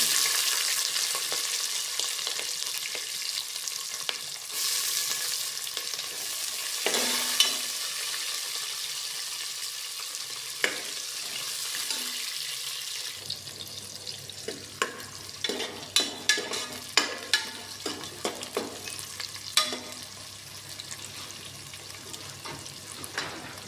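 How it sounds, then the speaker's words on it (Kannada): Green chillies and then onion hitting hot oil in a pan for vangi bath, giving a continuous frying hiss that grows busier with repeated sharp stirring clicks and scrapes in the later part. "ನೋಡಿ, ಈಗ ಮೆಣಸಿನ್ಕಾಯಿ ಹಾಕ್ತಾಯಿದ್ದೀನಿ. ಅದಾದಮೇಲೆ ಈರುಳ್ಳಿ ಹಾಕ್ತಾಯಿದ್ದೀನಿ."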